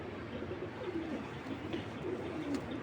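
A racing pigeon coos in low, soft, repeated throaty murmurs close by, over a faint background hiss.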